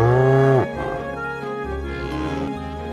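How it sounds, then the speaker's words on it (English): A cow gives a loud, close moo that breaks off after about half a second, followed by quieter, mixed background sounds. "Cow."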